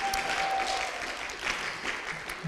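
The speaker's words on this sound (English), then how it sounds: "A round of applause for our folks behind us here" Audience applauding volunteers at a Salvation Army youth services telethon, a short, steady wash of many hands clapping with a brief tonal beep early on.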